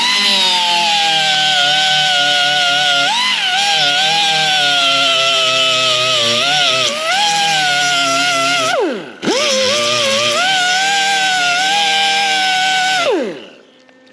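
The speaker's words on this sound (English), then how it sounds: "when I've done any grinder work" A grinder works on the metal body of a Challenger car with a loud, close, sustained whine whose pitch wavers under load, briefly cuts out and restarts, then winds down at the end.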